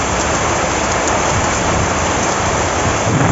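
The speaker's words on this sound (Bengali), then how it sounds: "ভালো জোরে বৃষ্টি শুরু হয়ে গেল।" Heavy rain pours down steadily in a village, a loud, dense, unbroken hiss of close downpour with no voices.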